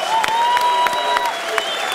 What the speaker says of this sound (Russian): Еще раз аплодисменты Давиду Хачатряну